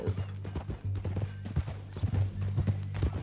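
Horse hooves clip-clop in the Red Dead Redemption 2 video game, a steady close rhythm of hoofbeats running under bits of voiced dialogue.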